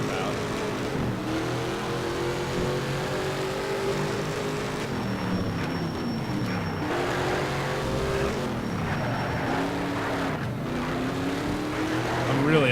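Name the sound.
muscle car driving on a race track in SHIFT video game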